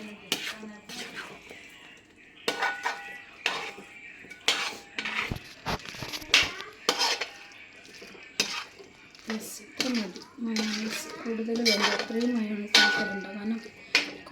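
Mayonnaise chicken tossed and stirred in a pan, with repeated metallic clatters and scrapes of a spatula against the pan and a voice speaking over and between the strokes.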